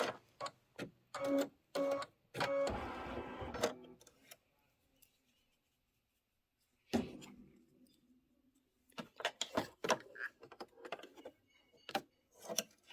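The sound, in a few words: embroidery machine stitching out the word Discover in gray thread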